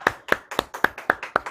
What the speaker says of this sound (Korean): 그 하나님께 또 한번 세 번째 감사 박수를 올려드립니다.